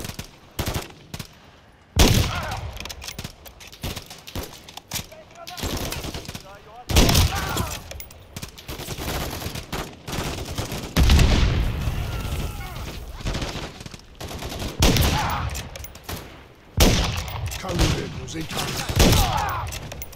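Heavy gunfire in Call of Duty Modern Warfare 3 rattles on through a battle, loud bursts and single shots arriving in irregular waves with booms mixed in, and voices can be heard among the shooting.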